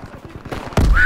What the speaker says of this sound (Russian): Там стрельба.